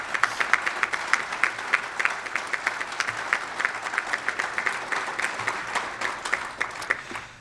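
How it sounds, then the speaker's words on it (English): An audience at a member meeting of an education summit and annual meeting breaks into a steady round of applause, many hands clapping in an even, lively patter with no voices over it. "Let's give Lexi a big round of applause"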